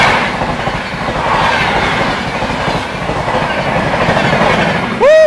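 The Dibrugarh Rajdhani Express passes close by, its wagons rolling past in a loud, continuous rumble with rhythmic clickety-clack from the wheels, closing with a sharp, brief high-pitched horn or wheel squeal.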